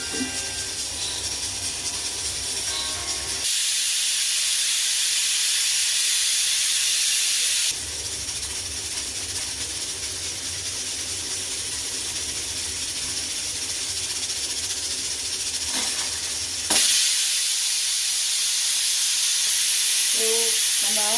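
Steam hisses hard from a pressure cooker of Chennai-style chicken kurma, a loud broadband rush that surges in several long bursts over a steady lower background hiss, with no talking.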